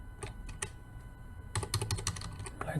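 Fingers tap shortcut keys on a computer keyboard, sparse clicks at first and then a quicker cluster of close, crisp keystrokes over faint background hum.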